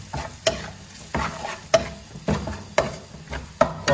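Cinnamon, cardamom and bay leaf are sautéed in a pan with a steady frying sizzle, broken by regular scraping stirs about every half second to second. The sound is close and moderately loud, with no talk.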